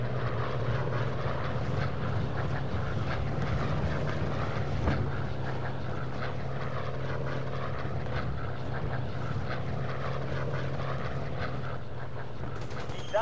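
Steady droning aircraft engine from a carrier-era warplane in the Pacific air combat game Air Conflicts: Pacific Carriers, a constant propeller hum holding level throughout with no break.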